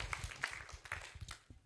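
A church congregation claps along during a Sunday service, a dense run of hand claps at moderate level with a few sharper peaks standing out, lasting under two seconds.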